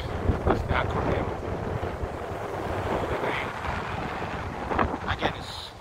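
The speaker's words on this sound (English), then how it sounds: "Again, it's very windy." Strong wind buffets the microphone on a downtown Chicago street in Streeterville, a loud rumbling roar with gusty swells near the start and end.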